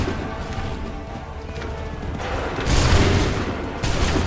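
Musket volley from a line of soldiers in the video game Assassin's Creed III, a loud burst of overlapping shots with rumbling crash that swells and then hits again near the end.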